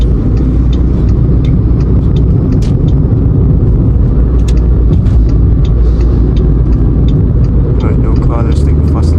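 Inside a 2019 Proton Persona 1.6 Premium climbing a hill, a loud, constant engine and road rumble fills the cabin, with faint clicks and rattles on top.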